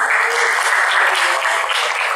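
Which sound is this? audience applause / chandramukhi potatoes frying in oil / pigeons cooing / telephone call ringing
audience applause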